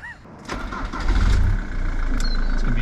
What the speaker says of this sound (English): it's literally alternating between 30 seconds at 3800 RPM and then 30 seconds at idle